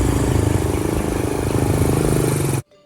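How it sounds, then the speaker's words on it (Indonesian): A motorcycle engine drones loud and steady at close range, then cuts off abruptly into near silence. "Suara motor Arfan menjauh di kejauhan."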